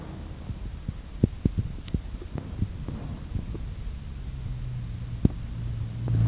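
A turf sod cutter with a 6.5 hp Kohler engine runs steadily outdoors, a low rumbling engine hum with irregular thuds and knocks as it cuts through soil, the drone growing slightly louder toward the end.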